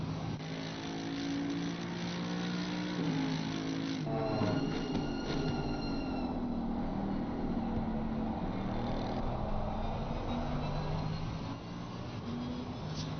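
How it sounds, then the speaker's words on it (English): Mercedes GT3 race car engine in Assetto Corsa during a 24-hour Nürburgring endurance race, revving and shifting through gears with pitch sweeps up and down, steady and moderately loud without speech. "love the sound of the Mercedes."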